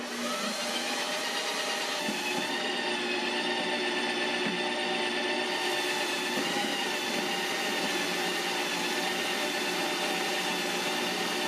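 A Ninja Creami machine runs its mix-in program with a steady, loud motorized whir and grinding churn that holds constant and close throughout, with a slight shift in tone partway through.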